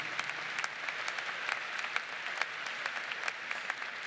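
A commencement crowd at Ball State University's winter ceremony claps for a student, with many distinct hand claps popping out of a soft, fairly distant bed of applause.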